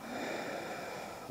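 During a gentle yoga flow, a long, audible inhale is drawn through the nose, a steady airy rush held for over a second close to the microphone, with no talk over it.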